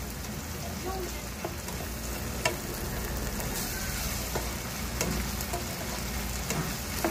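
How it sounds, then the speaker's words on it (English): Onions and ground meat sizzle and fry together in a pan, a steady crackling hiss with occasional sharper pops and stirring scrapes, close and continuous with no talking. "I'm gonna let the onions cook a little bit with the meat so the meat can get that onion flavor"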